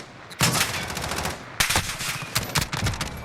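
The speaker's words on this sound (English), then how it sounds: "So you can see the rate of fire here is very fast if we tap fire it" HK433 rifle tap-fired in the video game Call of Duty Modern Warfare, loud rapid gunshots in short bursts with brief gaps between them, sharp cracks ringing out close by.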